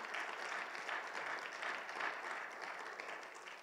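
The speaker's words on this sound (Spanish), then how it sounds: "Denle un fuerte aplauso al Señor" A church congregation applauds at a Spanish-language service, steady dense clapping filling the room with a few swelling peaks, sustained throughout with no talk over it.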